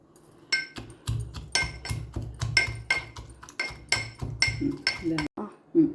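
Cucumber pieces drop into a bowl for chutney with a series of sharp clinks and knocks, roughly a dozen irregular hits close by, while a person speaks.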